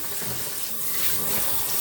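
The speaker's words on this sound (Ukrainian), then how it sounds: "Вирішила душем просто змити." Water from a shower head runs steadily for rinsing after household cleaning, a continuous broadband hiss with no talk over it.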